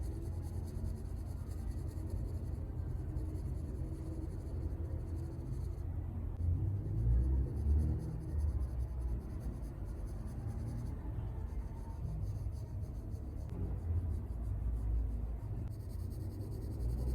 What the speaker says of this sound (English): just keep adding shadows and have a nice control over your pencil